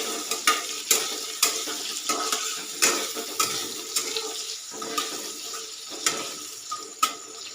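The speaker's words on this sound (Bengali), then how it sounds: "দিয়ে নাড়িয়ে চাড়িয়ে হালকা ভাজা হতে দেব।" Potatoes frying in a pan in a home kitchen, already fried paneer set aside, with a steady close sizzle broken by repeated sharp scrapes and clatters of a spatula stirring at a fairly regular pace, no voices.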